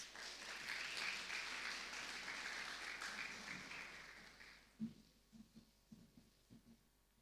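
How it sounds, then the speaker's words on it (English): Audience at a book talk claps in a steady, moderately distant round of applause that fades out after a few seconds, leaving a handful of scattered claps and small thumps. "Please give her a round of applause."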